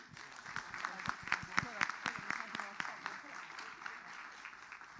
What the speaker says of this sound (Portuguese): vamos uma salva de palmas